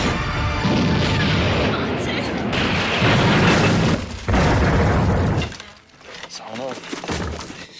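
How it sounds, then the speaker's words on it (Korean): A big explosion in a film scene after a plane crash, with heavy booming and crashing debris roaring continuously for about five seconds, then fading into quieter rumbling and scattered clatter. "대폭발."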